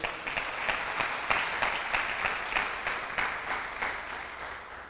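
A church congregation claps together in a steady rhythmic patter of many hands, heard at a moderate distance, with no one speaking.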